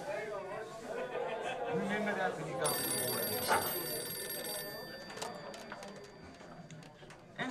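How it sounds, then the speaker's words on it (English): An old telephone bell rings in short bursts indoors, partly overlapping with people talking nearby. "Phone call for Norman Knox"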